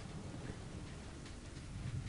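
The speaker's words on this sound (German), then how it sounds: "Und Regen fällt ja trotzdem auf mich" Rain falling in the video game Ghost Recon Future Soldier, a soft continuous hiss with low rumbling underneath, steady and fairly quiet throughout with no voices.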